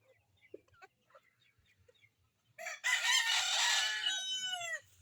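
Among free-range chickens for sale, a rooster lets out one loud, close crow lasting about two seconds, after faint scattered clucks and rustling in the quiet yard.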